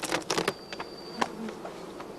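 Honeybees buzz faintly around a closed-up beehive in an apiary, with short passing hums and a few brief louder buzzes as individual insects fly close, against a quiet background.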